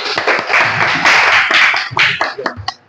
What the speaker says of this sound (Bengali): ওকে, হাততালি